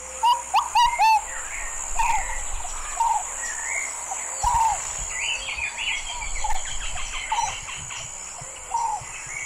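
A ruddy pigeon (Patagioenas subvinacea) calls in a series of short, soft hooting notes at a slow, spaced rhythm, set against a constant insect buzz and scattered chirps from other birds.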